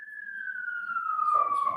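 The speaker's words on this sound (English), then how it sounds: "One sec for the siren." An emergency-vehicle siren outside a courtroom wails in one long, slowly falling tone, fairly faint and distant, with a low murmur of room noise beneath it.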